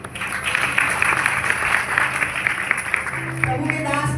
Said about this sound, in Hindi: अपने लिए एक बार ताली बजाइए।